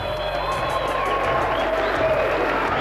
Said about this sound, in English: here you hear the crowd